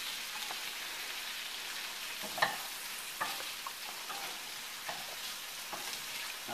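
Poultry gizzards frying in a pan to brown and reheat, a steady close sizzle with a few sharp pops and light stirring clicks throughout, no talking.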